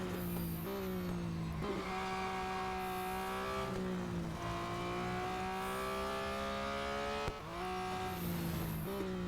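A GT3 race car from the 2020 season in the mobile racing game Real Racing 3, its engine droning steadily with rising and falling revs between gear shifts, alone and fairly quiet with no talk.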